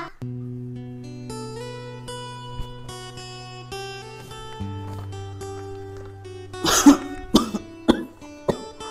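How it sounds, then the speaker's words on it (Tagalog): A person coughs several times in quick, harsh bursts toward the end, over steady, soft sustained musical tones with no talk. "Inuubo na ako."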